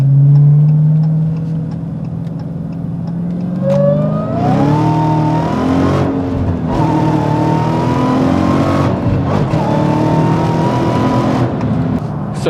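A car engine climbs steadily through its gears while merging onto a highway, rising whine and road roar close and continuous, with no talking.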